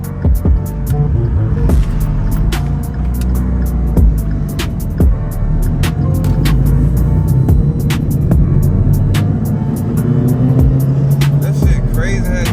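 A turbocharged car engine runs steadily at close range with an odd, continuous whirring tone riding over its low rumble, and sharp clicks and ticks recur throughout; someone talks over it at times.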